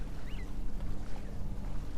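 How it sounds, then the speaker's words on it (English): A sailboat cruising under power on a single engine, out near a channel approaching a bridge, gives a steady low motor drone with water and wind noise around the hull, continuous throughout. "We're just cruising on one engine right now."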